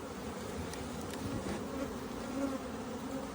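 Honey bees buzz around their hives in a soft, steady drone, many insects together, with no voices.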